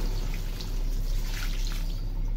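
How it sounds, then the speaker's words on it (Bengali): Water pours into a pot of fish curry cooking with greens, making a close, continuous splashing trickle that stays steady throughout with no speech. "ঝোলের পানিটা দিয়ে দেই,"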